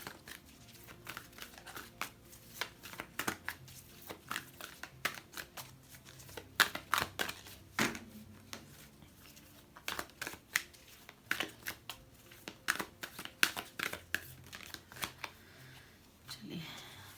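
Tarot cards shuffled and drawn during a reading, a long stretch of close, crisp riffling and flicking bursts in an irregular rhythm, fairly quiet overall.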